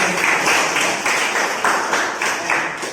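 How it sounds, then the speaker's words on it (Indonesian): A class of students in an Indonesian school lesson claps together in a rhythmic, patterned burst, loud and close, with regular surges in the clapping. "Tepuk tangan buat kalian."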